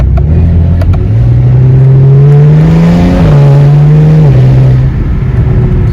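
A modified BMW 335is with the N54 engine accelerates under load, a loud close engine drone whose pitch climbs steadily, dips briefly at a gear change, then climbs again with no talking.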